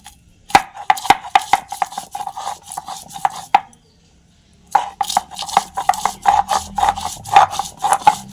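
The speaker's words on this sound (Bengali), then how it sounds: "এভাবে আমি হলুদ, আদা সবই একসঙ্গে বেটে নিচ্ছি।" Turmeric and ginger are ground together by hand on a stone, giving rhythmic scraping and knocking strokes, close and clear, with a brief pause midway before the strokes resume more rapidly.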